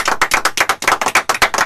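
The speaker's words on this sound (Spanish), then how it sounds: "Un aplauso porque yo traigo compañero." A few people clap in a quick, irregular run of crisp, close hand claps, loud and distinct with no talking over them.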